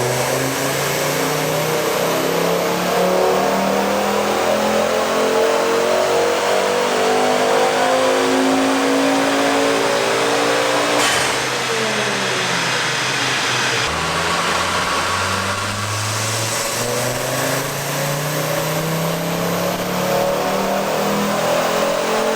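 A Ford Focus RS Mk2 engine, on a wrecked 150,000-mile car under restoration, revs loudly and continuously, its pitch sweeping up and down through several climbing and falling rises with no talking.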